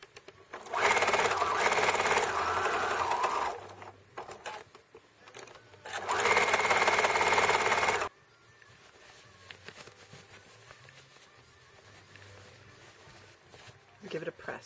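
A sewing machine stitches fabric for a scrap bag in two loud, fast whirring bursts, followed by quieter handling noises.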